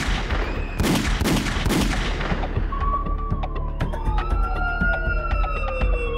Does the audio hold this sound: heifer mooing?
no